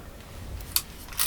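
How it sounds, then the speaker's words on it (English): A film camera's leaf shutter, quiet and close, gives a soft click around the middle and then a faint brighter snip at the end, set against a low steady hum. "This is what's called a leaf shutter."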